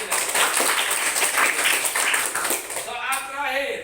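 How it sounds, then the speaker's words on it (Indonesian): Classroom applause for a student's correct answer, a roomful of pupils clapping in a lively patter for a few seconds before it fades and a teacher's voice takes over. "Kasih tepuk tangan lagi."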